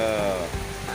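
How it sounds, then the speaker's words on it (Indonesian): Rain patters steadily on surfaces around a sheltered spot beside a rice-field fishing area, forming a soft continuous hiss with a brief tonal sound at the start. "Soalnya hujan sambil berteduh."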